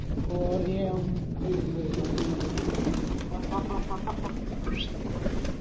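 Pigeons coo softly while eating buttered roti, amid a steady background hum, with a few faint chirps and murmuring voices nearby.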